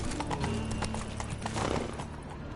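Roach, the horse in The Witcher 3, gallops with rapid, even clip-clop hoofbeats close by, a faint whinny-like tone running underneath.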